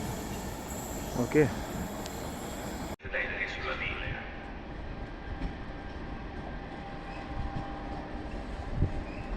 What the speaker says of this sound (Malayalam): ഇത് ലോക്കൽ ട്രെയിനുകളാണ് ഇങ്ങനെ കുഞ്ഞു ട്രെയിനുകൾ